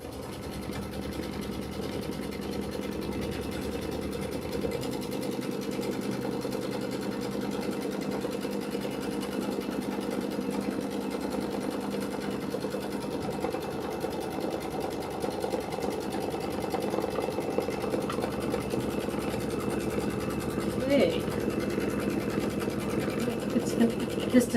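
An embroidery machine stitches the tack-down line on fabric for a Kimberbell Jelly Tote insert, giving a steady, quiet mechanical whir and rapid needle chatter that runs unbroken throughout.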